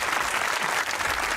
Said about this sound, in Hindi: ताली होनी चाहिए तमाम क्राउड के लिए